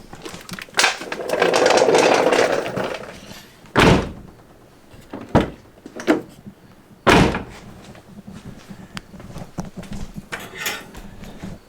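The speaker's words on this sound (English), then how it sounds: "let me make sure the door closes and opens from the outside" A Honda car door thuds shut several times at irregular intervals, sharp close impacts with quieter handling and rattling between them.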